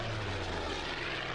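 Propeller aircraft engines in the wargame Order of Battle: a steady, loud, droning engine roar with a low hum underneath, unbroken for its short length, with no voices.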